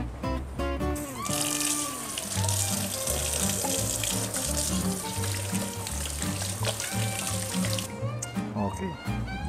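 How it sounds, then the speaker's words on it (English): Tap water runs steadily into a kitchen sink as hands are washed under it, a continuous splashing stream that starts and stops, with a voice talking over it. "Let me just wash my hands."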